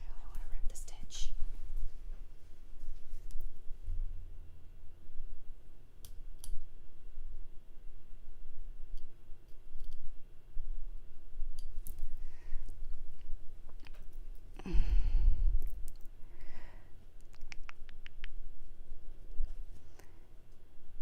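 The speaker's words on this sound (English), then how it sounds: "I don't want to break the fabric. I only want to rip the stitch." A seam ripper snips stitches out of bed-sheet fabric for a vintage Gunne Sax–inspired dress, giving faint, scattered little clicks and ticks over soft room noise, with one louder handling thump partway through.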